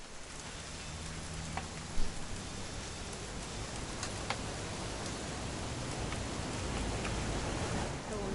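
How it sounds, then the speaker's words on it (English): Steady rain falling in the video game What Remains of Edith Finch, a dense continuous hiss of drops on surfaces with a few sharper patters, soft and even throughout. "It's gonna rain the whole weekend,"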